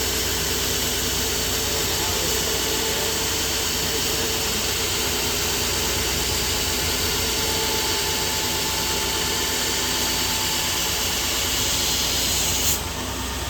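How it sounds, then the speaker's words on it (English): A workshop dust collector runs as a steady, loud broadband roar of rushing air. It holds evenly for the whole stretch, with a brief change near the end, and no voices are heard. "let me turn the dust collector off"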